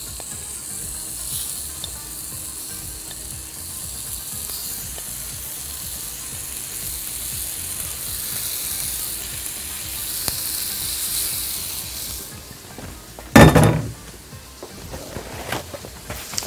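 Figs set into a hot pan sizzle and fry steadily, a continuous hiss with some scraping, capped by a sharp clatter near the end, for a grilled-fig dessert served with ice cream.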